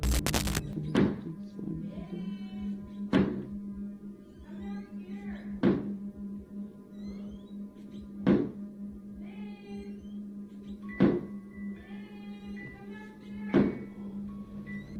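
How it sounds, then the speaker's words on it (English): A door slams shut on its own again and again, five or six sharp thuds spaced a couple of seconds apart, over a steady low hum with faint background voices. "the door suddenly began slamming on its own"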